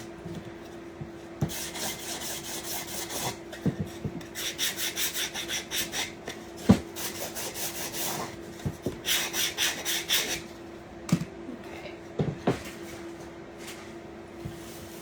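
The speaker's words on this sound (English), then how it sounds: "I'm just going to give that a little sand because that's what we do." A wooden pumpkin shelf sitter is sanded with repeated rhythmic rasping strokes, close and moderately loud, in bursts broken by occasional knocks and brief pauses.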